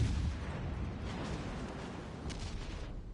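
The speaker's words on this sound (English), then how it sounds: "And here comes the shells that hit me." Incoming naval shells striking a warship in World of Warships Legends, a dense continuous rumble of heavy impacts and booms with a few sharper bursts, loud and sustained throughout.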